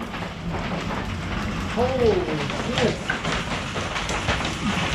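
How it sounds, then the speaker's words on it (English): Heavy hail pelts down outside a vehicle or shelter as a steady dense clatter and hiss, with a man's startled exclamation partway through. "That's a lot of hail."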